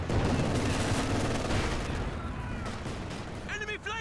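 Gunfire and artillery from a Company of Heroes 2 online 2v2 match, a dense, steady battle din of overlapping shots and blasts that stays loud throughout, with some softer chirping effects near the end.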